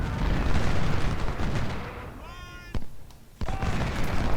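Cannon fire in the Civil War strategy game Ultimate General: Civil War, a dense, rumbling barrage of booms that thins out before a couple of sharp, isolated reports and a renewed roar of guns.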